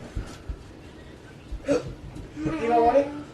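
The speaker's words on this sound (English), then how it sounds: "You got the hiccups or you like baby burping?" Someone hiccups in a few short, abrupt bursts spaced apart, with voices and faint laughing sounds nearby.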